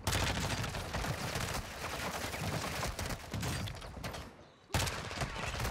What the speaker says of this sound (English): That was such a weird gunfire,